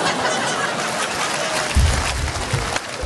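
Audience clapping at a comedy show at the Festival d'Avignon, a steady wash of many hands with a few deeper thumps partway through, moderately loud throughout with no clear voices on top.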